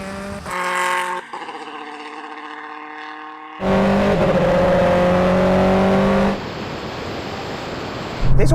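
A Le Mans-winning race car and a Bentley W12 accelerate hard in a rolling drag race to the half mile, engines droning and climbing through gear changes, loud and close, with distinct steady tones that cut in and out.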